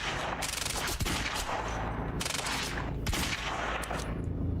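Rapid automatic gunfire from the video game Quantum Break, several loud sustained bursts with sharp individual shots over a constant dense backdrop.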